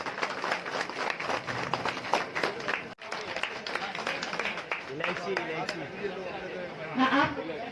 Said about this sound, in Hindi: एक जोरदार ताली तो बनता है भाई।